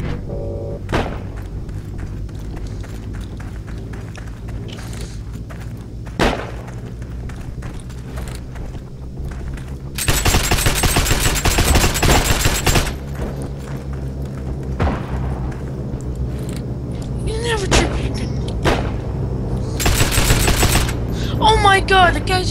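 Bomb blasts and gunfire in the Heroes and Generals multiplayer game. Scattered shots and thuds give way to long loud stretches of heavy fusillade and booming explosions, with occasional voices talking underneath.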